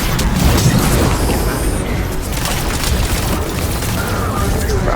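Rocket fire and explosions in Destiny 2, a continuous loud rumbling barrage of blasts and booms with no pause, dense and close throughout.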